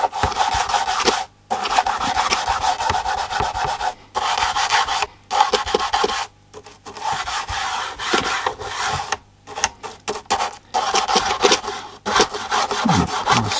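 Brisk, rhythmic scrubbing with short pauses between bursts, a raspy bristle rubbing sound up close from an old toothbrush cleaning a Copal fluorescent display clock radio, repeating over and over.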